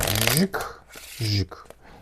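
A deck of playing cards is shuffled in a couple of quick riffling bursts, close by, broken up by short pauses and faint handling noise.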